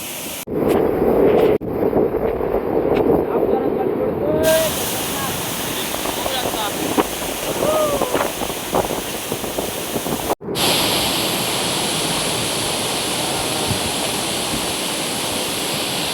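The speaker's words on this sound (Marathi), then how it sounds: "धबधबा" The Chonde waterfall in monsoon roars as a loud, continuous rush of falling water, close by, with wind buffeting the microphone and people talking over it at times.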